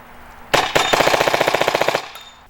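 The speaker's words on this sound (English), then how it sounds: "Now we're on 12 balls per second full auto, and I'm going to show you how well it shoots." Tippmann X7 Phenom paintball marker with a magazine-fed conversion kit firing full auto at about 12 balls per second, a loud, rapid, even burst of pops lasting about a second and a half.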